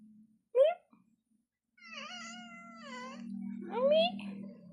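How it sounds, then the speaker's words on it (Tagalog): A house cat meows several times in a home with three cats, the calls rising and drawn out, loud and close, with a low steady hum underneath and a short quiet gap between cries. "Meow. Meow."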